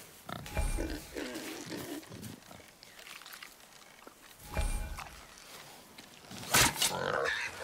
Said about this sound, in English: Wild boar's hide is thick.